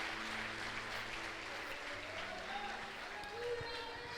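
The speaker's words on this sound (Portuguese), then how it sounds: "Eu quero que você fique em pé e aplauda Jesus" A church congregation stands and applauds, a full, continuous wash of clapping with a low hum and faint tonal notes underneath, steady from start to finish.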